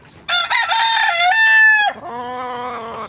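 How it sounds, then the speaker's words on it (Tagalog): A rooster crows loudly and close at a Philippine farm where new seedlings have been planted, one long drawn-out cock-a-doodle-doo followed by a lower second call, with no talk over it. "May mga manok na marites talaga dito, marami."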